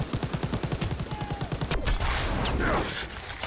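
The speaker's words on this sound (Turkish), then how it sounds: "Allah tank kuleyi sıkıyor baba." Gunfire in a Call of Duty: World War II battle with a tank shooting at a tower: a rapid, evenly spaced burst of shots, then a heavy blast that rolls into a loud, sustained rumble of combat.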